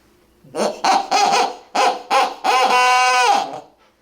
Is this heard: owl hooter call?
yes